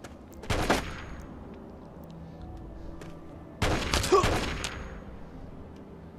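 Gunfire in Fallout 3 inside a chapel: two bursts of rapid shots, one short near-sounding volley then a longer one after a pause, over a quiet room ambience.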